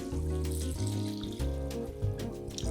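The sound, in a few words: water poured into a soup pot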